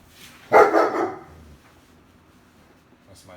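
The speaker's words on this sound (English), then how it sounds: "That's my dog." A single loud dog bark close by, followed by quiet.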